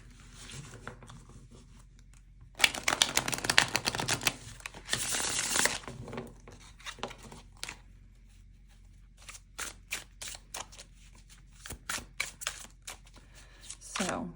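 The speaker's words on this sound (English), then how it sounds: "let me get this shuffled up and we'll get started on the reading" A deck of tarot cards being shuffled up close, with riffling bursts and crisp snapping flicks, followed by scattered taps and card handling, and quiet talk at times.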